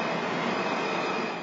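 A metro train rumbles loudly at the U Street station of the Washington D.C. Metro, a dense, continuous roar of rolling cars with a faint high whine running through it and no voices.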